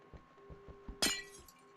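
Glass block shattering in Minecraft: a single bright, crackling break with a short tinkling tail, standing out over faint background thumps and a low hum, with no talk.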